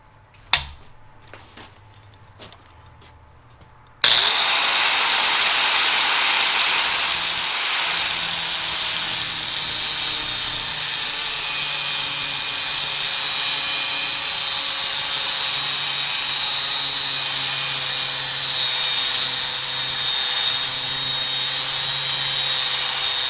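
Grinder working on a gearbox shaft component: after a few quiet seconds of faint handling clicks, a loud, high-pitched whining grind starts abruptly and runs steadily for nearly twenty seconds.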